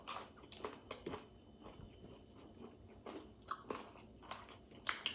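Someone bites into a Popeyes fried chicken sandwich and chews, giving soft crunches and moist mouth sounds in irregular bursts, close up but faint, with no talking.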